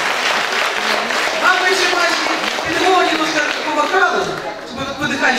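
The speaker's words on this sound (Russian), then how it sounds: "мы вас сразу берем под бурные аплодисменты зрительского зала в финал!" A talent show hall audience breaks into enthusiastic applause, dense continuous clapping with crowd cheering, loud and close, while voices call out over it.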